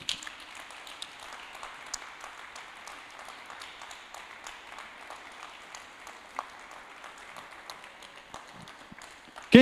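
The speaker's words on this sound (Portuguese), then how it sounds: "Então vamos dar uma salva de palmas para Ele?" Church congregation at a Thursday worship service claps in a soft, scattered round of applause that carries on at moderate distance, with individual claps picking out of the steady patter.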